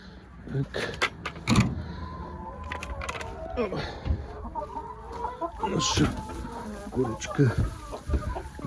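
Hens clucking softly while pecking at scattered feed in a village farmyard, with scattered taps and low calls close by under a person talking.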